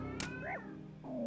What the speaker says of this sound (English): The cat sang hello.